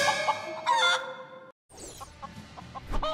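A chicken in the video game Lego Ninjago Movie clucks and squawks in a few short, close bursts, followed after a brief gap by softer game sounds and more clucking.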